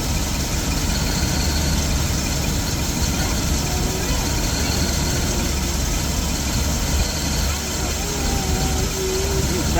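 A car engine idling steadily at close range, a loud, continuous low rumble with a slight unevenness, while someone speaks over it.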